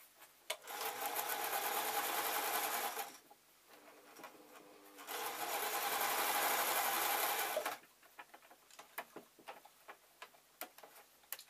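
A sewing machine stitches a satin apron with piping, running in two sustained bursts of steady rapid whirring separated by a pause, followed by scattered light clicks and handling ticks.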